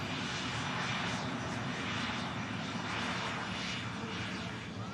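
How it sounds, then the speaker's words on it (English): A German-registered business jet rolls down the runway on takeoff at Manchester Airport, a loud, sustained roaring whoosh of jet engines that stays strong and steady throughout. "What's German registered BizJet? And it's going to use quite a bit of the runway by the looks."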